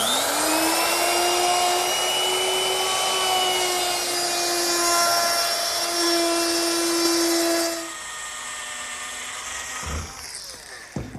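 A power tool chamfers three edges of a four-inch-wide oak backsplash clamped in a vise. It makes a loud, steady whine that holds for about eight seconds, then drops to a lower hum and winds down with a few clunks.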